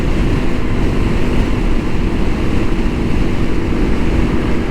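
A 2012 Yamaha XT250 motorcycle cruises on a highway, with a steady, loud engine drone and heavy wind rush holding constant throughout.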